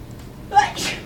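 A single sharp sneeze bursts out mid-clip, fairly close, followed by a breathy trailing sound.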